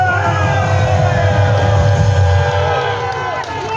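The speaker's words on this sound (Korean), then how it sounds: "뜨거운 함성과 박수 부탁드립니다" A large crowd at an outdoor security-activist rally at Gwanghwamun roars with cheers, whoops and shouting voices, a loud continuous mass of sound that eases slightly near the end.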